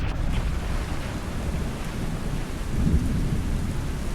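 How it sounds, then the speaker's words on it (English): Heavy rain pours steadily while thunder rumbles low and long, loud and close, heard aboard a sailboat in Alaska, with no voices. "As they promised, a storm is coming."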